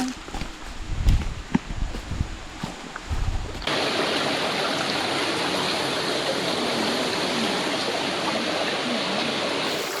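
Mae Kradang La waterfall in Thailand, reached by electric scooter: steady broadband roar of falling water fills the second half, loud and continuous, after a quieter opening with some handling bumps.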